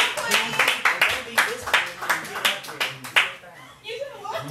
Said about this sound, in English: Coming to the stage next, please clap up to the stage, Vision.